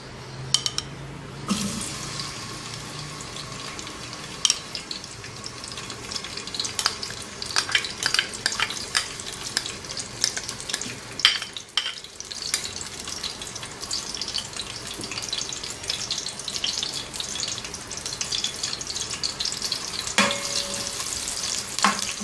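Onions frying in about half a cup of hot oil in a pan, a continuous bright sizzle with intermittent scraping and stirring clatter throughout, close and fairly loud, with no talking.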